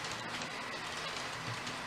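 Model trains run around a layout track in a steady, continuous rattling clatter with dense wheel noise, fairly close and unbroken, with no voices.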